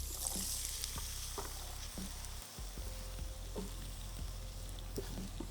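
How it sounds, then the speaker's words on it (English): Onions frying in butter and olive oil give a steady close sizzle in the pan, with soft rhythmic stirring taps roughly every second and no talk. "the butter and the olive oil will do all the work. And the onions are in."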